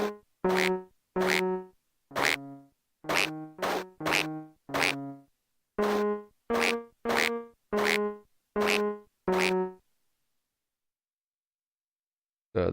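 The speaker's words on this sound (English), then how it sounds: "So they fart when they explode." Exploding ducks in the NES game Miracle Piano set off synthesized fart sounds, about fifteen short, punchy toots in an uneven burst, each clean and loud, followed by silence and one last toot at the end.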